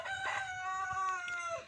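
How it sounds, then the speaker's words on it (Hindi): A rooster crows nearby in a rural Indian village setting, one long sustained cock-a-doodle-doo with a wavering tone, fairly faint and heard alone over quiet background. "अरे किसका मुर्गा हल्ला कर रहा है?"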